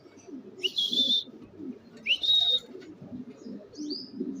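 Bird calls at a racing pigeon loft as a pigeon arrives during a derby: two clear high chirps over soft low cooing and rustling nearby, with a fainter call toward the end.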